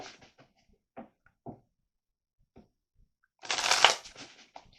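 Tarot cards being shuffled: a few soft, scattered taps and handling sounds, then one dense, loud riffling burst near the end that fades into light rustling. No voices.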